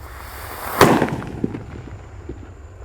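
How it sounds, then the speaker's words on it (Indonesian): A jumbo paper-wrapped firecracker goes off outdoors in one sharp, loud bang, followed by a brief scatter of crackling pops and debris that fades out. "di sini ada mercon buntelan kertas yang ketiga, guys"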